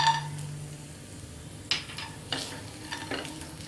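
Slit garlic cloves and peanuts frying in a pan over a low flame, a gentle sizzle broken by a few sharp stirring scrapes and clinks, quiet and close, with no talking.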